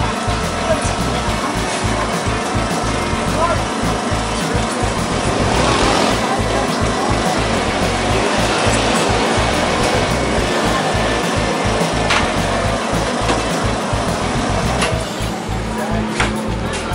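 A meat grinder at a burger stall in Panakukang fresh market, Makassar, grinds fresh-cut burger beef with a steady, loud motor drone and a rhythmic low chug that runs throughout, while people talk nearby.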